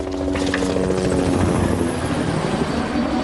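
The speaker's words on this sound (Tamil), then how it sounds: "இது ஹெலிகாப்டர் சத்தம் தானே?" A helicopter thunders close and loud, a constant chopping rotor roar filling the whole stretch without pause.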